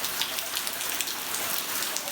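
Rain falling onto the water of a creek beneath the wooden Longley Covered Bridge, a dense, steady hiss of drops and patter, soft and continuous with no voices.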